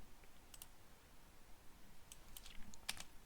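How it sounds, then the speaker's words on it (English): Quiet keystrokes on a computer keyboard come in short scattered bursts, a few isolated taps and then a quicker cluster near the end, faint against low room hiss. "Let me just type it down because I feel like I have a better thought process when I type it down."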